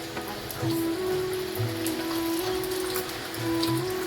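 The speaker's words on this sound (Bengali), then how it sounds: "দেখো বৃষ্টি বৃষ্টি কমার নাম নেই নাম নেই" Rain falls steadily outdoors, a continuous soft patter and hiss at moderate distance, with a few faint background tones and no speech.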